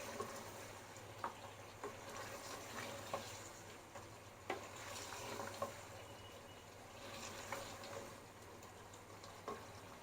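Coarsely chopped onions sizzle and fry in a clay pot of mutton kunna, with steady low crackling broken by light scraping knocks of stirring at irregular intervals; faint and close, with no talk.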